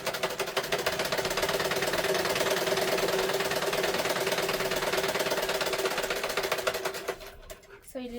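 A sewing machine stitches a straight line on a child's umbrella frock in a steady, fast whirring run for about seven seconds, then slows and stops as a voice begins speaking.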